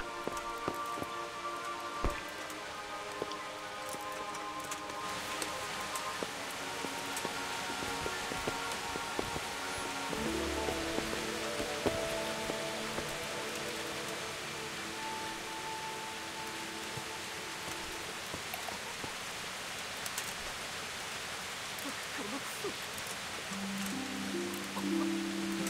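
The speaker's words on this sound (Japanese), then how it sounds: "ちょ、雨降って。" Steady rain falls in the medieval video game Kingdom Come: Deliverance, a continuous soft patter on surfaces with faint game sounds mixed underneath.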